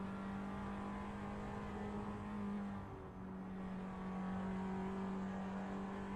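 Formula-style race car in a sim racing league at Bikernieki, engine droning at a steady high pitch with a brief dip in revs midway before it climbs again; no talking.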